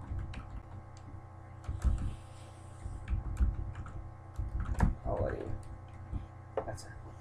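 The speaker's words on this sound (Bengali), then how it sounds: "আমি জাস্ট হ্যালো দেয়ার লিখে দিই।" Keys clatter on a computer keyboard as a short greeting is typed into an account setup form, scattered irregular clicks over a low steady hum, with soft background talk at times.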